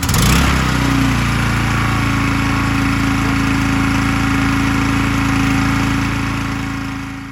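A Champion 4,250-watt open-frame inverter generator running loud and close, starting with a brief surge, then holding a steady, droning engine hum with a harsh mechanical buzz that eases slightly at the end.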